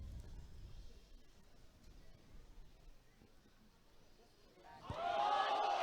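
Crowd at a Rondebosch versus Sacs schoolboy rugby match bursts into a loud cheer as a conversion kick sails over, rising sharply near the end after a quieter murmur of spectators.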